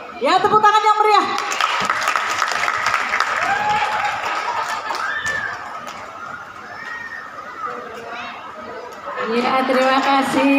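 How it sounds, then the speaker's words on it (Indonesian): An outdoor Betawi festival crowd applauds a pencak silat performance, with scattered clapping mixed with loud voices and chatter that rise and fall throughout. "tepuk tangan yang meriah"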